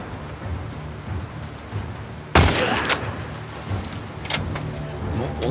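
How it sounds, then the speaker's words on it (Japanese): A sniper rifle fires in the game The Last of Us Part II, one loud, sudden crack with a rolling echo, followed by scattered clatter and debris over a low ambient rumble. "スナイパーの音だもんな、こっちの方が。"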